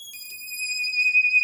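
A harmonic solo synth oscillator, a sine wave with added harmonics, holding one clean sustained note alone with a bright stack of overtones and slight swelling loudness.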